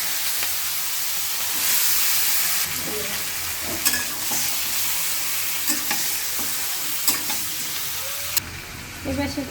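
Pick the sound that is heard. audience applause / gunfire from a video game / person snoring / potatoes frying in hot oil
potatoes frying in hot oil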